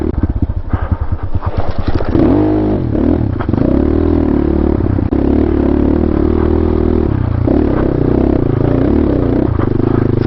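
A GPX Moto FSE 250e dirt bike climbs a rocky canyon trail in first gear at low RPM. A loud, steady engine drone is heard close by, with clattering and scraping from the terrain and tires.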